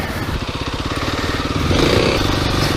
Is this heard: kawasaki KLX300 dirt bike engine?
yes